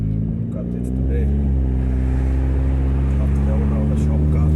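Loud, throbbing low engine drone from a 2000 Nissan Altima with a leaking exhaust, running steadily close by with a slight rise in intensity, a voice briefly audible over it.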